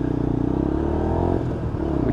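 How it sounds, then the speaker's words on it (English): A Lexmoto LXR motorcycle's engine blips and revs during downshifts for rev matching, a close, buzzing rise and fall of engine tone over a few seconds. "revving as you come down to rev match your gears"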